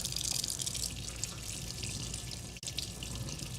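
A tomato being rinsed under a running kitchen tap, a close, steady hiss of flowing water splashing into the sink, briefly broken by a short dip.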